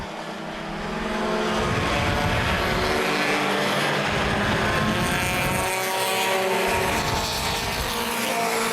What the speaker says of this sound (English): Miller and Frazier all battling back here for position